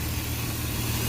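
A 1998 BMW 528i engine idles steadily after a head gasket sealer treatment, a close, continuous low rumble with an even hum and no voices.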